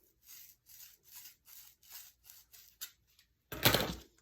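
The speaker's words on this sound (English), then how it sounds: "Take the scissor, make the hole a little bigger." Scissors worked into a small hole to widen it for a dowel, giving a regular series of about eight soft rasping twists followed by one louder, longer scrape, close and quiet.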